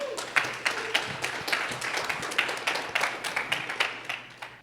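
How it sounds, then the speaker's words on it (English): A modest group claps with distinct, uneven hand claps throughout, scattered rather than a full roar, fairly close and steady. "Give them a round of applause."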